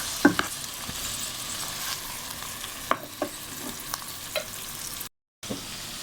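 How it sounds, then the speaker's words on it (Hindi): Bitter gourd frying in a pan with onion, garlic and ginger as it is stirred: a steady close sizzle with scattered scraping clicks of the spoon, a brief gap near the end, no voices. "अब इसको मिक्स करके इसी में अभी पकाएंगे 5 मिनट तक"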